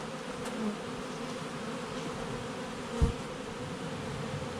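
Honey bees buzz steadily around an open hive during an inspection, a close, continuous drone with a brief knock partway through and no voices.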